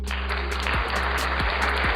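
Studio audience applause fills the room, a steady dense wash of clapping that holds at an even level throughout, with faint low hum beneath.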